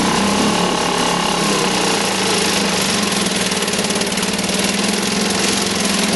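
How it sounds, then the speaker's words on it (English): A small Mercury outboard motor idles loudly and steadily up close, a continuous rattling drone with a fast even pulse and no talking. "got the little Mercury started now, idling pretty good"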